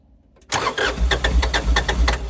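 A fire-damaged Terex TA1EH dumper's engine cranks after a brief silence, loud and close, with a rhythmic churning starter beat repeating steadily to the end.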